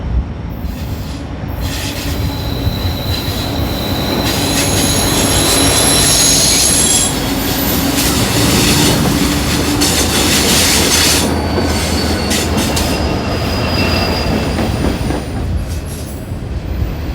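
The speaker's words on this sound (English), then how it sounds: "SD75I 5683 was leading a pair of Canadian National C44-9Ws." A Canadian National freight train led by SD75I locomotive 5683 and trailing C44-9W units rolls past in northern Illinois. A loud, steady roar of rail cars carries continuous clickety-clack wheel noise and high squealing wheels throughout.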